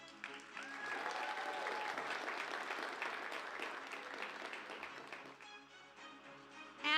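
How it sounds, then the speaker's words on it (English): An arena audience applauds the finalists at a women's 9-ball world championship billiards final, a sustained moderate clapping with some cheering tones, tapering before a brief burst of voices at the end. "Please give a round of applause to our finalists."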